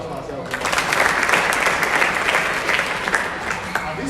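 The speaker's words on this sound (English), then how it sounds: "A round of applause for myself." Audience applause at a Rotary Club of Benin basic education and literacy event, a steady, dense clapping that fills the room for about four seconds with no pauses.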